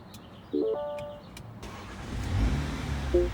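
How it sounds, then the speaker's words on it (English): A parked car's engine is started for a used-car inspection, cranking with a short burst at about half a second, then settling into a steady low idle that rumbles on nearby with a few faint chirps. "it's a good time to start the engine and take a look at the engine operation under the hood, just while parked"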